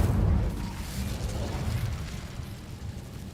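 Casting the Incendio fire spell in Hogwarts Legacy sets off a loud, low whooshing burst that fades into a rumbling crackle.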